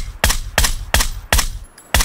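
Five loud, evenly spaced gunshots ring out in PUBG, each a sharp close crack with a short tail, roughly half a second apart, with no talk over them.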